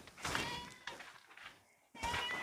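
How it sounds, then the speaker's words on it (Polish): Goats bleating at an old grain mill on Fuerteventura, three short wavering cries in a row with brief pauses between them, fairly close and clear against a quiet room. "A, to kozy beczą."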